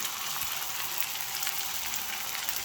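Fish pieces sizzling in hot oil on a tawa, a steady, even crackle and hiss from close by with no talking over it.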